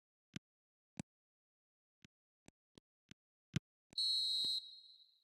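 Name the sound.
referee whistle for half-time in a football video game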